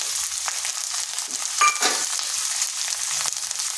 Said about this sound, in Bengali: আদা রসুনটাকে একটু ভেজে নিলাম যাতে তার কাঁচা গন্ধটা চলে যায়। দিয়ে দিচ্ছি একটা ছোট সাইজের টমেটো